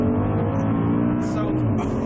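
An Audi R8 supercar's V8 engine revving, a loud, close, sustained mechanical drone with strong harmonic tones, heard continuously from a moving car.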